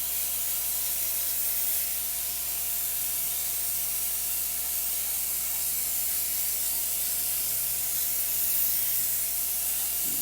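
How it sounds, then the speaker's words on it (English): An airbrush sprays paint in a steady, unbroken hiss for freehand graffiti lettering, close and constant throughout with no pauses. "It's actually meant for it to be sprayed really quick"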